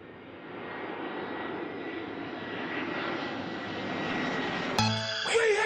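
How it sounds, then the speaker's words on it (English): An airplane engine drones steadily and loudly in flight, a continuous roar that swells slightly toward the end, with a brief voice near the close. "we got a guest passenger riding in our plane today, Lil John."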